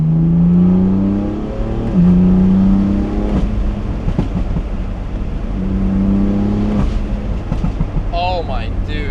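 BMW M4 with an aftermarket exhaust setup revving, loud and close with repeated rising and falling engine pulls, a deep smooth note and no rasp.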